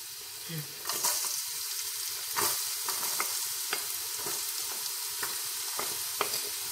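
Ginger and garlic fry in a pan with a steady bright sizzle, broken by repeated scraping stirs, close and fairly loud, no talk.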